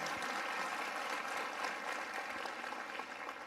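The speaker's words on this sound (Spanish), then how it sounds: "Qué bonito aplauso eso." A church audience applauds in a steady, dense wash of clapping that fades slightly toward the end.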